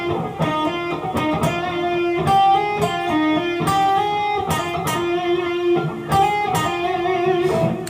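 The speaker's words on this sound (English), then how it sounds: "let me play this whole lick through so you can hear how it sounds" A distorted electric guitar runs through a fluid solo lick, notes sliding and hammering in quick succession over a steady, driving tone.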